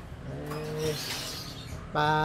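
Pigeons coo at a loft, their low, rolling calls repeating close by over a background murmur, with a brief burst of chirping mixed in.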